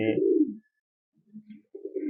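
A pigeon coos nearby in soft, low, throaty bursts, with a short coo, a pause, then quieter murmurs and another coo, and no talk.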